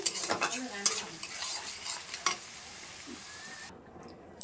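Ghee and sugar are stirred in a frying pan, a spoon scraping and clinking against the metal with a soft sizzle, several close strokes fading toward quiet.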